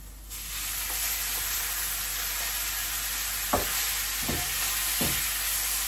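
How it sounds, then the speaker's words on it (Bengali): Fish frying in a pan with onions, a continuous close sizzle and hiss with a few sharp utensil scrapes near the end. "মাছটা একটু কষানো হইলে, ভাজা হইলে তারপরে ঝোল দিয়ে দিব।"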